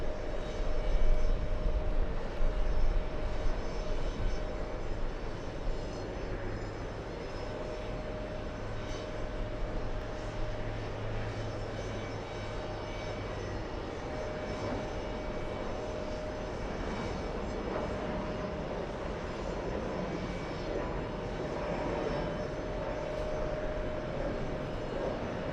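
A large airliner on the world's longest route, arriving from Singapore, drones overhead in a broad, steady engine roar with a sustained tone, loud and continuous for the whole stretch and gradually easing slightly after the opening seconds.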